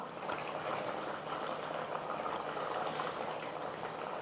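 Steady bubbling simmer of a thick fish curry in a pot, a continuous close, dense burble with no voices.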